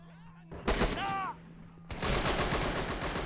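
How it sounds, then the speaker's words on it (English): Bursts of gunfire from British paratroopers and Waffen-SS soldiers in the WW2 shooter WW2: Arena, a short loud volley followed by a denser sustained rattle of shots, with a brief whistling tone in between. "British paratroopers are laying on some good fire there at the Waffen-SS soldiers"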